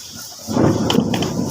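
Heavy rain with thunder: a low rumble swells into a loud, steady roar of rain about a third of the way in and keeps going without any talk.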